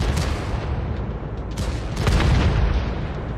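Heavy booming tank cannon shots in World of Tanks with crackling gunfire, a few sharp blasts rising over a constant rumbling battle din.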